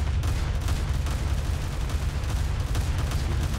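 Cannon fire from gunners in a pirate video game, a dense continuous barrage of booming shots rolling together under a steady low rumble, loud and sustained without talk.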